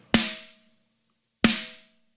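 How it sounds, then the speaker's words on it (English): Two isolated hits of a snare drum top trigger sample, each a sharp crack with a short ringing tail, spaced about a second apart, clean and close with silence between. "the first one up is going to be our snare top trigger"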